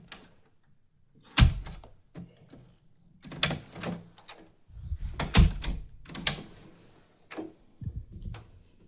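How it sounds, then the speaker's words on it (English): A door being rehung on its hinges during a handyman repair gives a series of sharp wooden knocks and bumps with scraping handling noise in between, moderately close and with no voices. "They just wanted me to just hang the door"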